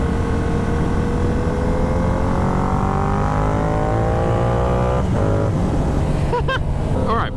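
A Yamaha R7 motorcycle engine under way, a loud steady drone with rising and falling tones as it accelerates and shifts, heavy wind rush throughout and a brief voice near the end.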